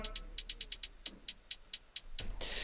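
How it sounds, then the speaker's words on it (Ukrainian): Crisp hi-hat strikes in a quick, mostly steady pattern with a few fast rolls near the start, played alone and close. "Хай-хет майже прямий, тільки є е, декілька ролів на початку."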